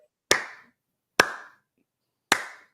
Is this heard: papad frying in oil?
no